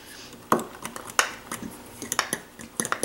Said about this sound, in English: Mix it in there real good.